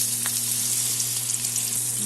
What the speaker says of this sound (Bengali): আলুটা এখন ভেজে নেব।